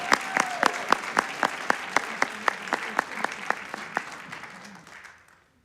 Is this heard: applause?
yes